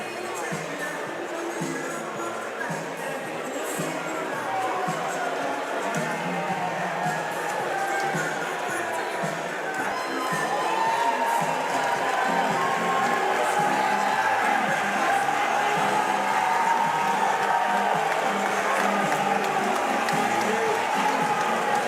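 A crowd at a Cage Titans FC fight event roars and cheers continuously, a dense wall of voices that swells louder partway through, with commentators talking over it.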